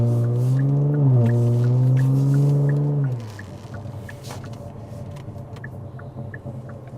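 A Kia Stinger GT with a 3.3-liter twin-turbo V6 drives off, its engine droning loudly and rising in pitch for three seconds, then easing to a lower, quieter rumble with faint ticking.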